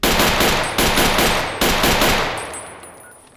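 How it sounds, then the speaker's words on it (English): Three loud, rapid video game gunshot bursts in Tale of Four Wastelands, each ringing out and decaying, fading into a lingering echo. "That gun is too loud."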